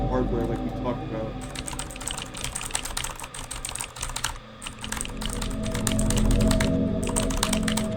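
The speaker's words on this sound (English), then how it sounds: "Wait, can you guys hear my keyboard?" Computer keyboard typing during a livestream, rapid clattering keystrokes in dense bursts, fairly close and steady over a low background hum and music.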